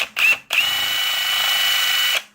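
A power drill drives a screw into a steel plate, starting with a short burst and then running in a steady, high-pitched whine for almost two seconds before stopping. The sound is close and loud.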